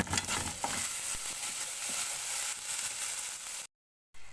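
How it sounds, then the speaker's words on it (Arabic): Sudanese-style peanut butter sauce bubbles and sizzles in a pan, a steady close crackling hiss for several seconds with no talk, ending in a brief silence. "زي ما انتم شايفين اهو بتغلي"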